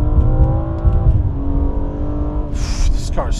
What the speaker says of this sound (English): Up oh, there's wheel spin.